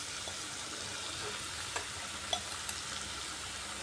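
Fried eggplant and rohu fish pieces going into a pan of softened potatoes, giving a soft steady sizzle with a few faint clinks of stirring, quiet and without talk.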